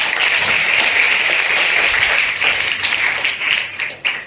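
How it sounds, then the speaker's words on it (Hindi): Welcoming applause from a gathered audience at a school-style event, dense continuous clapping that fills the space and fades toward the end. "तालियों के साथ स्वागत करें।"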